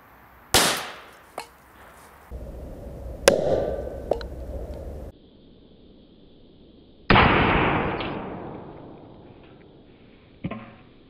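Sharp bangs from two firecrackers go off inside a metal can, several loud pops with a clanging ring, then a big blast that decays slowly.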